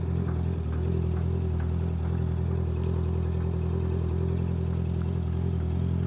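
A steady, fairly loud drone of many motorcycle engines idles and rumbles together outside a cafe in Lipa, Batangas, with faint clattering on top and no talking.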